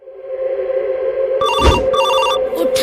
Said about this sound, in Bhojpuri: विधायक जी का फोन आइल बा